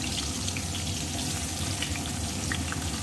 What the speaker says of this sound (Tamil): பூண்டையும் நான் ஒன்றாவே போட்டு வறுத்துக்கிறேன்